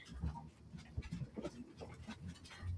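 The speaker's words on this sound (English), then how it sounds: "all the dogs just came running in here like, they're all celebrating" Several dogs pant and whimper excitedly nearby as they rush into a room, with breathy, uneven bursts and scrabbling movement, fairly quiet and without clear talk.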